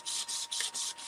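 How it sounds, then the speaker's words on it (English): Sanding brush scuffing galvanized steel in about four or five rhythmic, close rasping strokes, each a bright scratchy burst separated by brief pauses, heard alone. "Okay, just kind of sanding it so the paint has something to stick to."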